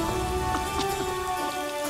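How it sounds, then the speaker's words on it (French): Steady rain patters and hisses on surfaces in an animated series set in a heavenly realm, a dense continuous wash of drops with a faint tonal hum underneath and no voices. "Sérieusement, il pleut au paradis?"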